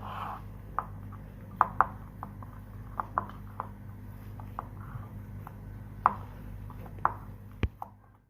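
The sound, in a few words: mashing boiled potatoes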